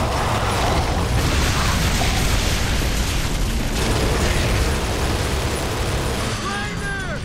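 Machine gun fire and explosions from Gears of War 3 in a dense, continuous barrage of rattling shots and booming blasts, loud throughout, with a voice talking over the combat.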